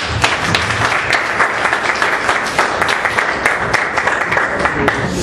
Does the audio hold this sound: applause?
yes